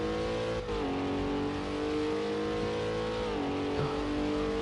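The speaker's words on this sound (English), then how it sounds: "And the very, very loud car he's in." A loud GT3 race car engine in a racing video game at the Nürburgring, a steady roaring drone that drops in pitch at a couple of gear changes and carries on at full volume throughout.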